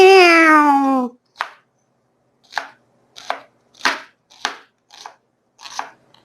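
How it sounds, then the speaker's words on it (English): A knife chops an onion on a board in a kitchen on Ambergris Caye, Belize, with about eight separate, crisp chops at an uneven pace after a cat's drawn-out meow at the start. "Cutting up that onion a little bit more."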